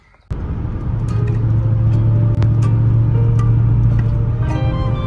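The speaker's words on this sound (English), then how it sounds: "we are going to jump in the CLK and drive to an American and Classics car show" A Mercedes CLK drives on the way to an American and classic car show in Switzerland, with a steady close engine and road rumble starting abruptly and holding a low drone throughout, with no talking.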